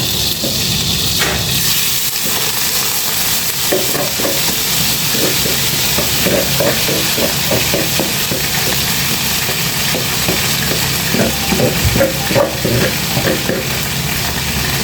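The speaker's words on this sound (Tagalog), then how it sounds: "Pag mainit na yung manteka, lagay natin yung karne." Beef drops into hot oil in a pan on a gas stove and fries with a loud, close sizzle, broken by repeated scraping and stirring clatter throughout.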